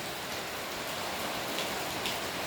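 Steady rain pouring down during a wet monsoon season, a dense even hiss of drops hitting surfaces that stays constant throughout, moderately close with no voices.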